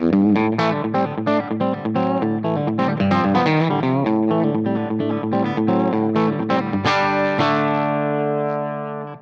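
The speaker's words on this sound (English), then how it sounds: "So you got a little of that dirt into with it, so it makes it drive a bit" Electric guitar through a Wampler Hot Wired v2 overdrive pedal playing a quick run of chords and notes, gritty and saturated, ending on a long ringing chord that fades.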